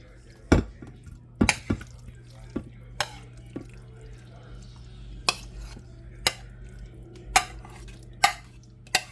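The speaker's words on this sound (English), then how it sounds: "I'm going to go ahead and put this in the baking dish." Food with Parmesan being scooped into an 8 by 8 baking dish, a series of sharp scraping knocks and clinks of a utensil against the dish at irregular intervals, close by and without talk.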